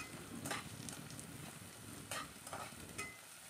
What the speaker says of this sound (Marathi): कांदा लालसर होईपर्यंत आपल्याला तेलामध्ये छानपैकी भाजून घ्यायचा आहे.